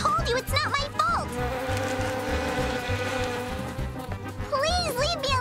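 Cartoon bees buzz loudly and almost continuously, a close, wavering drone in an animated kids' show, with music underneath and whiny character voices popping in at the start and end.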